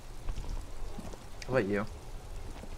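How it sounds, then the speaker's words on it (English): Rain in the Disco Elysium video game makes a steady, soft hiss under a short spoken phrase. "It's raining again."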